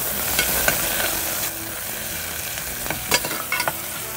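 Onions frying in a pan for a paneer vegetable biryani give a steady sizzle, with a spoon stirring and scraping in short bursts near the end.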